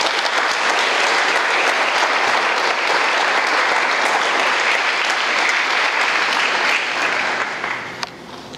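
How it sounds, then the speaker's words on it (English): Dense, sustained audience applause at a ribbon-cutting ceremony for an entrepreneurship and innovation program, loud and even throughout before tapering off at the end. "So James needs a round of applause."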